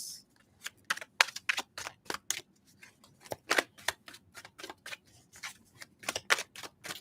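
Rapid, crisp riffling of tarot cards being shuffled in irregular bursts, close and fairly quiet, with short pauses between clusters of flicks.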